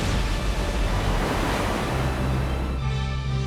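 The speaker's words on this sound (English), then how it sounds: "Carve monster waves on a treacherous reef." Ocean surf breaking on a reef, a loud continuous wash of crashing water with heavy rumble and wind buffeting the microphone.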